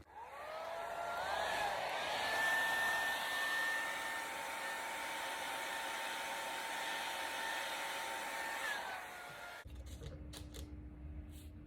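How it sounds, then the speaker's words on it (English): A hair dryer blows steadily and fairly loud on a fluid acrylic ring pour with black cell activator, its whine shifting slightly in pitch before cutting off abruptly near the end. "now I'll just hit it with the hairdryer again"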